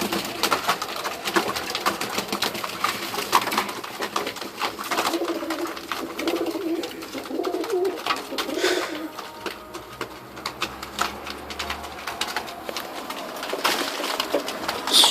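Pigeons on a balcony coo in low, throaty repeated calls as a male courts a female, steady and close with soft rustling and flutters between the coos.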